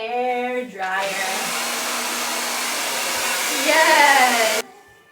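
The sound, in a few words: hair dryer running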